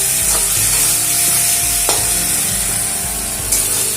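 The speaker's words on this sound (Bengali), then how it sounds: "ভেজে রাখা আলুগুলো দিয়ে দেবো। এবারে 2 মিনিট মতন কষিয়ে নেব।" Pre-fried potatoes tossed with spices in a hot pan for a fish curry, loud close sizzling under repeated scraping strokes of a spatula, with a couple of sharp knocks against the pan.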